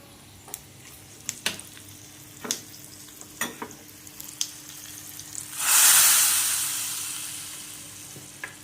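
Hot oil for a no-onion, no-garlic temple-style South Karnataka sambar with ash gourd sizzles loudly as a tempering of cumin, mustard seeds and asafoetida goes in, after a few sharp clicks and taps; the hiss swells suddenly and then fades slowly.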